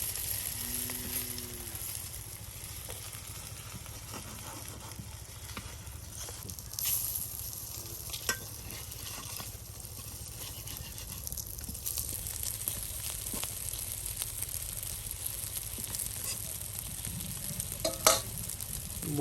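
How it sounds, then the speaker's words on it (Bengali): Lentil and rice fritters (bora) fry in oil in a rural Bengali kitchen, a steady low sizzle broken by scraping and clinking as they are turned, with no voices. "বড়া কিন্তু প্রায় এক মতন ভাজা ভাজা হয়ে গেছে এখন উল্টে দেওয়া হচ্ছে"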